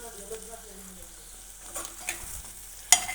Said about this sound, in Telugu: ఒకసారి తిప్పుకొని కరివేపాకు వేసుకోవాలి